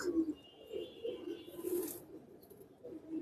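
Pigeons kept in a loft coo steadily in low rolling murmurs, several birds overlapping at close range with a brief rustle midway.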